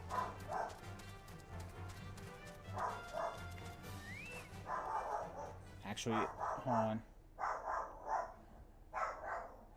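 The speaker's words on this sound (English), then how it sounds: "Why is Doggo barking?" A dog named Doggo barks in bursts from another room during a Final Fantasy XIV playthrough, sharp repeated yaps over game music and a voice.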